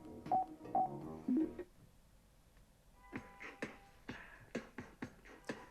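FREECOM 1 headset giving short electronic beeps as the media button is double-pressed, a few quick tones close up, followed by faint music.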